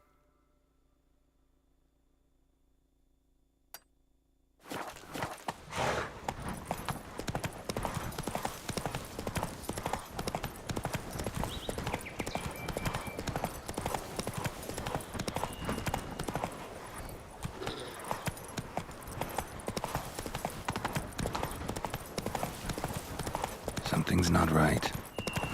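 After a few seconds of near silence, the horse Roach in Witcher 3 clip-clops along in a fast, steady hoof rhythm, close and continuous, while someone speaks briefly over it.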